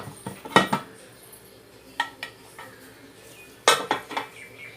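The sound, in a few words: opening a pressure cooker lid to check a cake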